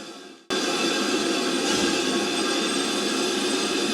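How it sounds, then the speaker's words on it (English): After a brief quieter moment, a train on the Bluebell heritage railway abruptly roars past close by, a loud steady rumble with faint metallic screech that holds to the end. "But we'll watch the train go."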